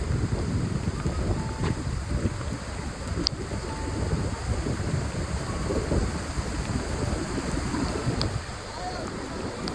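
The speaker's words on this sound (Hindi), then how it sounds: "बारिश बहुत ज़्यादा" Heavy rain pouring steadily on a mountain road near Birthi Falls in Munsiyari, a dense broadband roar with gusty wind noise hitting the microphone throughout.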